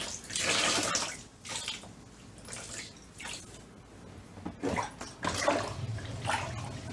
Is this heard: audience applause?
no